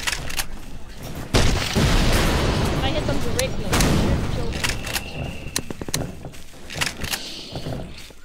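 Heavy booming shotgun blasts from a double-barrel in a survival video game, several loud shots in quick succession with dense rumbling reports and chaotic noise between them, clear and close.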